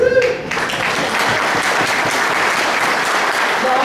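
An audience at a general meeting candidate forum claps in a sustained, dense burst that swells after a brief spoken moment at the start and holds steady to the end.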